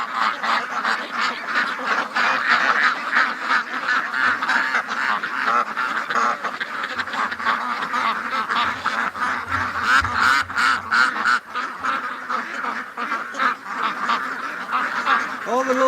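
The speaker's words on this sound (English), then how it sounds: "All the little Muscovies are trying to fly." Flock of adult Muscovy ducks moving along, giving dense, continuous honking and quacking calls close by, with a person talking now and then over the birds.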